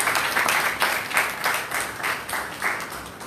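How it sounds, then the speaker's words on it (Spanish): Church congregation applauding during a Spanish-language Sunday school service at an Assemblies of God church, a steady wash of many hands clapping together in slightly rhythmic surges, close and continuous throughout. "Denle un aplauso a Dios."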